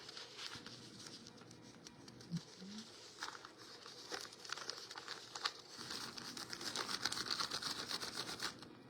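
A paper napkin is ruffled and picked apart by hand for napkin card making, giving continuous close crinkling and soft tearing rustles with irregular crackly bursts that grow busier toward the end.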